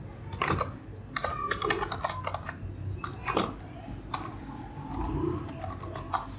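Keystrokes on a computer keyboard entering a username and password at a router login, a steady run of clicking keys with brief pauses, close and fairly loud with no talking.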